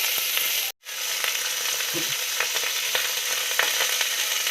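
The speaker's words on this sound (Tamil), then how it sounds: "அடுப்பு லோ ஃப்ளேமில் வச்சுட்டு நீங்கள் நல்லா அதை கோல்டன் ப்ரௌன் வர வரைக்கும் நல்லா இது வதங்கணும்" Onions and tomatoes sauté in a pan for chicken curry, crackling continuously up close, with light stirring scrapes scattered through and a short dropout near the start.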